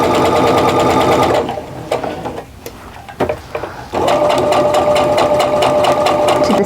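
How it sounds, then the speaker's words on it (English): A sewing machine stitches a seam on a flying-geese quilt block, running at a steady fast buzzing rhythm, pausing briefly with a few small clicks, then starting again and running steadily, close and loud. "once I sew mostly right up to that seam"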